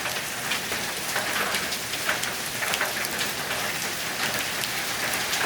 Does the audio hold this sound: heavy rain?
yes